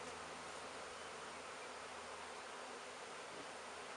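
Honey bees swarm at an opened hive after the outer cover comes off, giving a dense, steady buzzing that fills the space, close and constant throughout.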